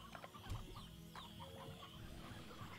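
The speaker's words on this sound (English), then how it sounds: "No! Filthy chickens!" Chickens cluck in the video game Slime Rancher, several short clucks over a busy game soundscape, moderately quiet and continuous.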